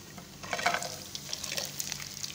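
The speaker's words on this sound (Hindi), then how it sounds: "अब इसके अंदर जाएगा फ्राई किया हुआ चिकन।" Soft sizzling and stirring of fried chicken in a pan with hot oil and golden-browned garlic, a faint steady crackle with a few light scrapes close by.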